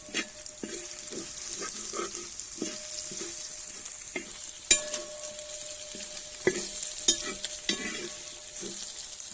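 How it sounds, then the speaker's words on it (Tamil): Chillies sautéing in a pan for rabbit pallipalayam: a continuous sizzle of frying, broken by repeated scraping stirs and occasional sharp clinks of the spoon against the metal pan, with no voices. "நல்லா நல்ல நிலையே மிளகாய் வதக்க விட்டுருவோங்க."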